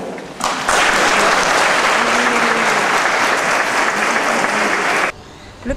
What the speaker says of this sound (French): C'est tous ensemble que nous sommes enfants de Dieu et nous pouvons nous applaudir